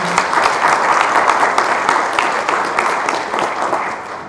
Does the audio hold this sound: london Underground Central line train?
no